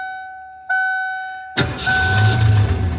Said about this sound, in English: truck starts.